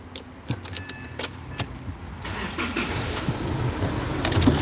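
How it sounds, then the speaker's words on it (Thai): A 2014 Isuzu D-Max 2.5 Z VGS pickup gets its first cold start of the morning: keys rattle, then the diesel engine cranks and catches into a steady, rising idle close by, with no voices. "เสียงเครื่องสตาร์ทครั้งแรกช่วงเช้า"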